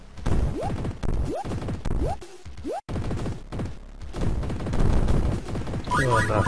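Blaster fire in the platform game Jazz Jackrabbit CD: a rhythmic series of rising zapping shots, several spaced single shots, followed by busier crashing game sounds near the end.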